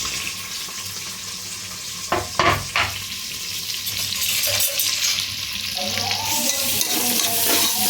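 Green chillies and onion sizzle and fry in a hot pan with whole spices such as cinnamon, cloves and bay leaf, with steady crackling, a few clinks and stirring scrapes near the start, and the sizzle growing louder toward the end.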